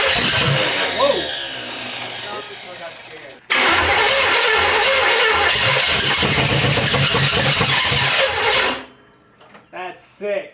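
A Camaro engine cranks with a loud, churning starter rhythm, pauses briefly, then cranks again in a long harsh burst that cuts off near the end, followed by people speaking.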